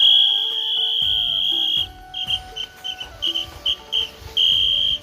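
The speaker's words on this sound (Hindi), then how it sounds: "सीटियों से बंदर को अलर्ट भी कर रहा है।" A handheld whistle blown in the hills to scare monkeys from crop fields: first a long steady shrill blast, then a run of short sharp toots, loud and close.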